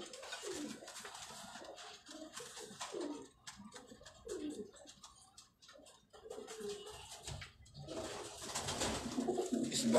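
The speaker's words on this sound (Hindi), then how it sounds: "कबूतर कैसे लग रहे हैं?" Pigeons coo on a rooftop in soft, repeated throaty calls, several birds overlapping close by, with small ticking and shuffling noises between the phrases.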